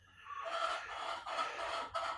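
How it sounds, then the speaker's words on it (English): Chickens squawk in loud, drawn-out bursts close by, three harsh calls in quick succession with a near crowing quality. "Squawking of the birds."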